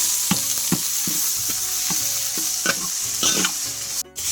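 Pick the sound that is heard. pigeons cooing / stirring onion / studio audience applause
stirring onion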